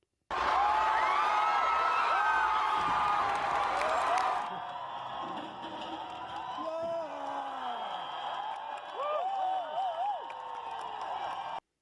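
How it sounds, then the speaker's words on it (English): A street crowd by a harbour in the UK cheers and whoops, loud and close at first, then settles into scattered shouts and yells that rise and fall over a continuing hubbub. "As the people cheer"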